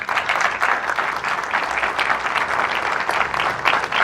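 A church congregation bursts into steady, dense applause during a sermon, many hands clapping together for several seconds at an even level, filling the room with no voices over it.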